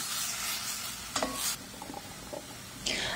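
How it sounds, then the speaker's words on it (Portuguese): Chicken pieces fry in olive oil in a pan, a close steady sizzle with brief scraping stirs and a few clinks of a utensil against the pan, no voices. "numa panela coloco um pouquinho de azeite, espero esquentar um pouco e coloco os franguinhos para fritar"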